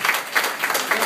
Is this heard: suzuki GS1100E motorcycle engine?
no